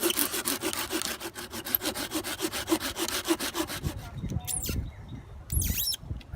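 A blade scrapes dead wood and bark off a piece of fatwood in quick, rhythmic strokes, close and fairly loud, then slows to a few scattered scrapes while birds chirp faintly outdoors.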